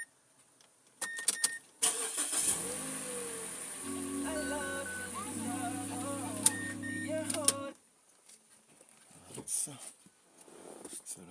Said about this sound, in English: so we're warming up the engine